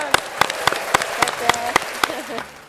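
People at the Teatro El Círculo opera house in Rosario clap in a crisp, evenly spaced rhythm, each clap sharp and close, while voices talk over it near the end.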